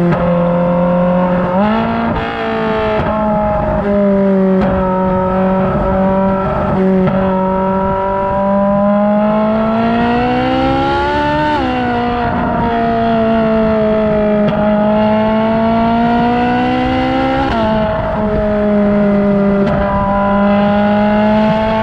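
Ferrari 458 Spider V8 engine revving loudly and up close, rising and falling in several long sustained pulls with clear tonal whine, alone without talk.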